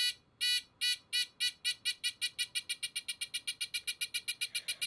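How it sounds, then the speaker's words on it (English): Electronic buzzer from a kit, its speed adjusted by turning a screw, beeping in sharp high-pitched bursts that start slow and quicken into a rapid, evenly spaced pulsing stream, loud and alone. "now the buzzer is going at a rapid pace"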